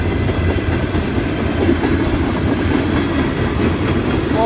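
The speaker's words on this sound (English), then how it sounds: "Good amount of train here." A Norfolk Southern freight train rolls past close by, its steady rumble and rhythmic clickety-clack of wheels over rail joints sustained and loud throughout, with no voices.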